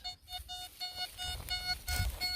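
An XP ORX metal detector passing over a hot rock at an old miners' camp in Australia gives a rhythmic train of short, repeating tonal beeps, moderately loud and close, over low rumbling ground noise.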